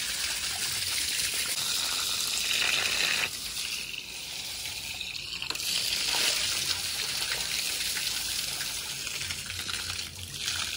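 Water gushing steadily from a motor pump hose onto freshly laid concrete at a home construction site, a continuous broadband splashing flow with slight surges, moderately loud and unbroken by talk.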